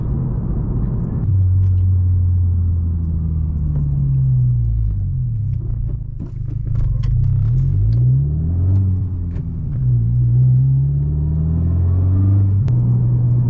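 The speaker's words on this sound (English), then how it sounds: "I'm backing off the throttle as early as possible when approaching the stop sign" A car engine hums low and steady as it coasts off the throttle while approaching a stop sign, a close, continuous rumble with slowly wavering pitch and no talking.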